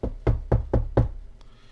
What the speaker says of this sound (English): He then proceeds to knock on the door.